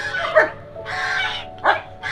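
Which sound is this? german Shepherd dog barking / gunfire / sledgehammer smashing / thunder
german Shepherd dog barking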